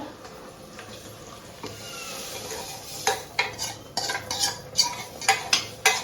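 Onion and chili tempering in a pan, a faint steady sizzle at first, then a spoon clinking and scraping against the metal in a quick run of sharp, close stirring strikes.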